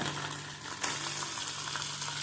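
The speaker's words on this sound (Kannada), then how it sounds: "ಚೆನ್ನಾಗಿ ಫ್ರೈ ಆಗಲಿ ಫ್ರೈ ಆಗ್ತಿರುವಾಗ ಸ್ವಲ್ಪ ಟೊಮೆಟೊ ಹಾಕುವ" Egg burji sizzling in a pan with ginger, garlic and a little tomato, a steady close frying hiss with a brief stirring scrape partway through.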